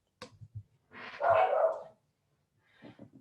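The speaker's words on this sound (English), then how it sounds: "my dogs are barking" Dogs bark in a short burst, a loud, harsh bark in the middle followed by fainter yips and whimpers, heard in a quiet indoor setting without speech.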